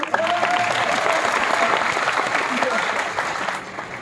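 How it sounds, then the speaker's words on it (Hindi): Audience applause at a Hindi poetry recital in Bhopal, right after a jogira chant ends: dense, steady clapping from a large crowd that holds loud across the clip, with a brief voice or tone early on and a slight tapering at the end. "जोगीरा खत्म हुए, तालियां बजाइए।"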